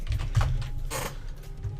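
A computer mouse clicking right beside a Blue Yeti microphone, a quick run of close, small clicks and taps with no voice.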